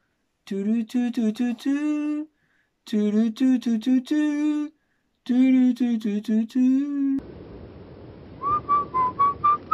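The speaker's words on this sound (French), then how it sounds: "ils sont là en train de siffloter" Several people whistle a bouncy tune in short repeated phrases with brief pauses, then a single fainter whistled line over a noisy background.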